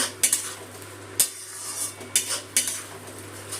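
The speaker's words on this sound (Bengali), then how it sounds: "দিয়ে টমেটো বাটাটা ভালো করে কষিয়ে নিচ্ছি" Tomato paste being stirred in hot oil in a pan for fish kalia, with a spoon repeatedly scraping and clinking against the metal pan in a few sharp strokes over a faint sizzle, close by.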